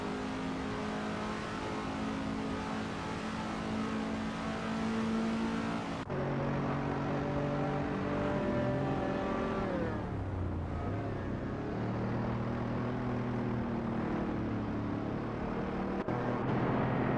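Racing video game engine of a 1966 MG BGT V8 race car, a continuous loud engine drone that shifts pitch as the car accelerates and changes gear, with other engines blending in throughout.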